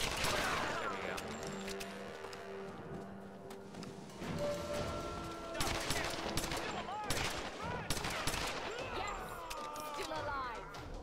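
Bursts of gunfire in the action game Tomb Raider (2013), loud clusters of close shots scattered across the stretch amid game effects, with someone talking over parts of it.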